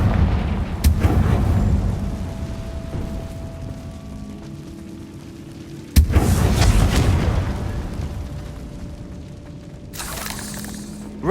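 Confringo blasting spell explosions in the video game Hogwarts Legacy: two sharp, loud booms about five seconds apart, each followed by a rumbling, crackling decay, with a brief tonal game effect between them.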